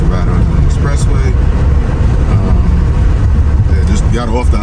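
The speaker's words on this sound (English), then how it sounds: "I was about to see how the car gets to ride on the expressway." A Mercedes R129 SL500 cruising on an expressway, with loud, steady road and engine rumble and wind noise inside the cabin while people talk over it.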